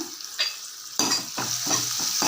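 Onion and tomato sautéing in a pan for garlic chutney, with a loud sizzle swelling after ingredients are tossed in, followed by repeated scraping stirs of a spoon against the pan, close and alone.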